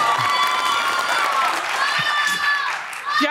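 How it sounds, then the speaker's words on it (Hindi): Studio audience clapping and cheering on a Pakistani TV comedy show, a broad continuous wash of applause under a host's voice and musical tones, dipping briefly near the end. "तालियां हो जाए भाई तालियां तालियां"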